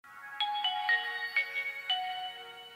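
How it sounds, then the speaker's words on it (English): A restored Nokia N95 8GB mobile phone plays its startup tune, a short bright melody of several rising and falling electronic tones, close and clear against a quiet background. "I'm really glad to hear the startup sound"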